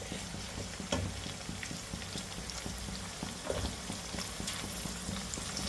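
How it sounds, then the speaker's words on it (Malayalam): Shallots, ginger and garlic frying in hot oil for a Kerala-style beef fry, a soft continuous sizzle and crackle with occasional light stirring clicks, fairly quiet and close, no voices. "നന്നായി എണ്ണയിൽ മുരിഞ്ഞ് വരണം കേട്ടോ ചെറിയുള്ളി. അതേപോലെ ഇനി അടുത്തത് ഇഞ്ചിയും വെളുത്തുള്ളിയും കൂടി അടിയാം."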